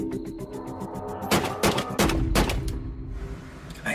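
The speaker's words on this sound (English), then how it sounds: "There's panic as Rodger opens fire on students outside the 7-Eleven store." Gunfire erupts during a shooting outside a 7-Eleven store, captured on a smartphone: a burst of several loud, sharp reports follows a steady rhythmic background pattern, then fades into distant noise, with no speech.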